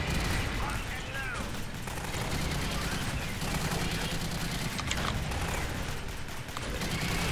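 Rapid automatic sentry turret gunfire in the Alien Swarm video game, a dense continuous clatter of shots with mechanical rattles, sustained and loud throughout amid game action.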